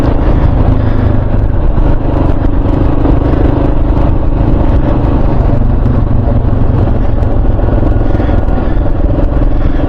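A KLR 650 motorcycle rides along a rough rural road, with loud, continuous engine drone and wind rumble close to the rider and no pauses or voices.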